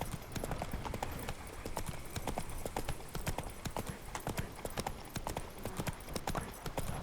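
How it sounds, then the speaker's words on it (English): A horse's hooves clip-clop in The Witcher 3 video game, a quick, regular run of crisp close hoof strikes over a low ambient bed. "The teleporting horse"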